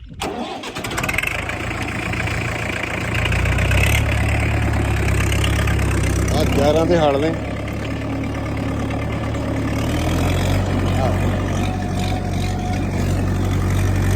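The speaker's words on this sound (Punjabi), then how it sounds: "70000 ਦਾ ਟਰੈਕਟਰ ਲਿਆ ਸੀ ਜੀ ਮੈਂ ਇਹ ਜਿਹਦੇ ਨਾਲ ਸਾਰੀ ਖੇਤੀ ਕਰਦੇ ਆ" An old heater-start tractor engine cranks and catches, then settles into a loud, steady chugging idle close by. Someone speaks briefly near the end.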